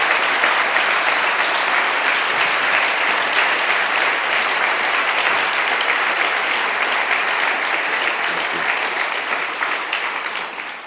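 An audience applauds Pete Greig at a 24/7 Prayer Rising Tide Tour event, a steady, full round of clapping from a large crowd that holds evenly and then begins to fade near the end.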